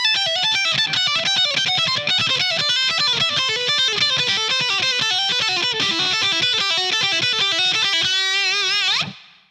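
A fast electric guitar run of smooth, connected notes with little picking, cascading steadily downward for several seconds before ringing out and stopping.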